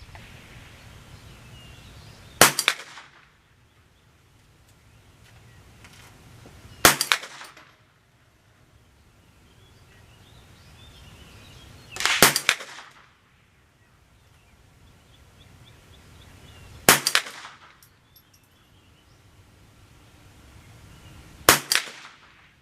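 Five sharp rimfire rifle shots fired through a Feyachi 2-7x32 scope, evenly spaced about five seconds apart, each a crisp close crack with a brief decay over a quiet outdoor background.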